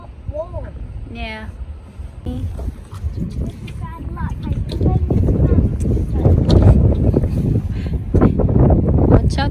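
Gusty wind buffets the microphone with a low rumble while people talk and call out nearby outdoors.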